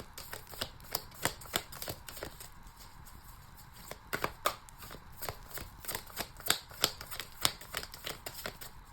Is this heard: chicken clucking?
no